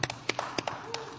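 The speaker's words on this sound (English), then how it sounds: "I'd like to give you all a round of applause" Scattered claps from a small audience at an early-morning TechEd Europe 2012 technical conference session, a handful of separate, fairly close hand strikes spread over about a second.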